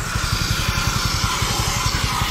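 A motorcycle engine, just fitted with a new spark plug and front bearing, runs loud and close with a rapid, even chugging pulse that holds steady throughout.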